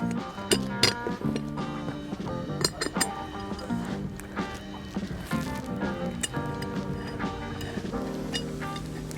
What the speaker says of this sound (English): We're gonna put a bolt through.